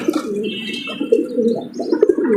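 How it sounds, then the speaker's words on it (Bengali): A racer pigeon coos close by in a steady run of low, throaty hums, with soft overlapping murmurs and no talk. "আওয়াজ দিতেছে কি হুম হুম করে আওয়াজ দিতেছে"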